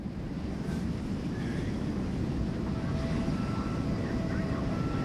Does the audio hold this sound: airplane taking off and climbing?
yes